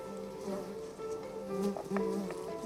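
Thousands of honeybees buzz at a hive in a steady, tonal hum with wavering pitch, close and moderately quiet, individual bees swelling briefly as they pass.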